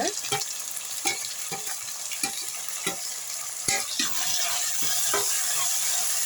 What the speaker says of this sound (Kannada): ಇದೆಲ್ಲ ಚೆನ್ನಾಗಿ ಫ್ರೈ ಆಗಲಿ ಇವಾಗ ಅಂದರೆ ಟೊಮೆಟೊ ಸ್ವಲ್ಪ ಫ್ರೈ ಆಗಬೇಕು ಸಾಫ್ಟ್ ಆಗಬೇಕು